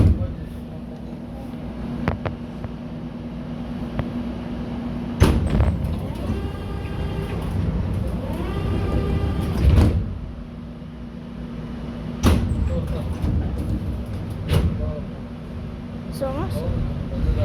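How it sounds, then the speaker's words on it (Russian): Doors on a Moscow metro train close with several sharp thuds amid a steady rumbling hum in the carriage. A voice announcement and scattered talk run over the noise. "Осторожно, двери закрываются."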